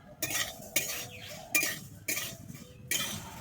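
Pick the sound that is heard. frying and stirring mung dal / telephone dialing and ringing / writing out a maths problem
frying and stirring mung dal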